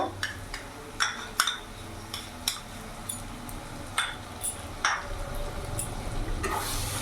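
Ginger, garlic and chili paste sautéing with onion and tomato over a medium flame for Hyderabadi green chicken: a steady close sizzle broken by repeated scraping strokes of a spoon against the pan, with no talk.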